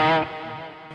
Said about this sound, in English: Now the lead tone goes like this.